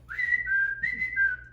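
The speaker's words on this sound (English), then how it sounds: "I know how to whistle." Human whistling, two clear rising-and-falling melodic phrases carried by a single steady tone, close and moderately loud, with no talking.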